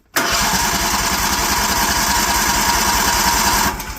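DuroMax 713cc 23hp engine being cranked by a brand-new starter, a loud, rapid, close whirring churn that kicks in abruptly and runs steadily for several seconds before easing off.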